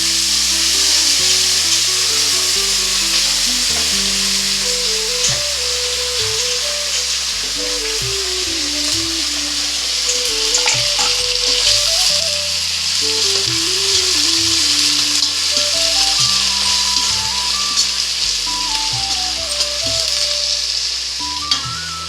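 Cumin seeds and onions fry for jeera rice, a loud continuous sizzling hiss in a pan that runs steadily throughout under a melodic background tune.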